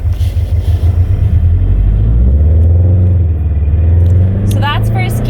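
Manual car pulling away in first gear as the clutch is released with light throttle: a steady low engine rumble that rises slightly in pitch, heard from inside the car, with a brief squeaky sound near the end.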